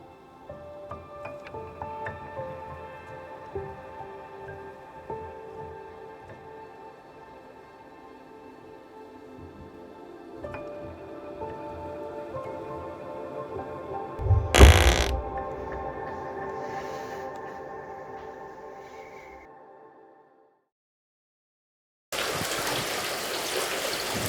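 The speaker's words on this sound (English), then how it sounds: "it's still raining" Steady patter of rain and trickling running water along a foggy Camino de Santiago trail on the French Way, a constant soft wash with a few louder bumps and a brief gap near the end.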